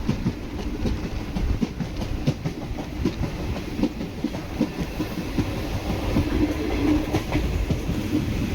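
Chennai Egmore Express (16102) running from Kollam Junction toward Chennai Egmore, with a steady rumble and rhythmic clickety-clack of wheels over rail joints, loud and continuous from on board the moving train.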